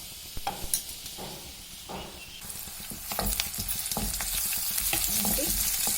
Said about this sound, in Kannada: ಒಂದು ಈರುಳ್ಳಿ ಫ್ರೈ ಮಾಡ್ಕೊತಾ ಇದ್ದೀನಿ